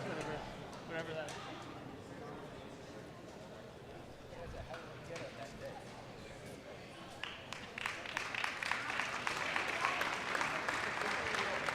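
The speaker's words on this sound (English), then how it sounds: "Round of applause for Megan." A crowd at the Picklebowl 2023 pickleball event applauds Megan, clapping rising from faint to louder and more distinct toward the end, with talk over it.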